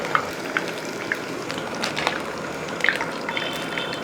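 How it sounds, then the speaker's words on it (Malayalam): Pineapple snack pieces frying in oil in a pan, giving a steady, close sizzle with scattered small pops and crackles. "2 ഭാഗം ഒരുപോലെ ഒന്ന് പൊരിഞ്ഞതിന് ശേഷം അവിടെ നേരത്തെ ചെയ്ത പോലെ തന്നെ അതേപോലെ തന്നെ ഫ്രൈ ആക്കി എടുക്കുക."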